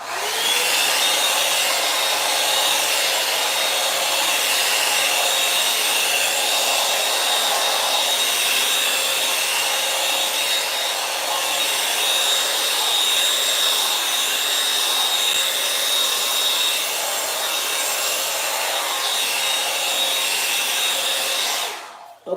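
A handheld hair dryer blows steadily on its cool setting for the whole stretch, a loud, even broadband whoosh close by with a faint steady whine, running unbroken until it cuts off at the very end.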